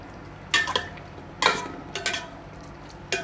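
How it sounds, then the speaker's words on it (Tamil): Mutton biryani masala stirred in a pot, with four separate bursts of spoon scraping and clinking against the vessel over a low simmering background, close and moderately loud, with no voices. "இந்த அளவுக்கு நல்லா மிக்ஸ் பண்ணி விட்டுட்டு ஒரு 5 நிமிஷம் சிம்மில் வச்சு மூடி போட்டு வச்சிடலாம்"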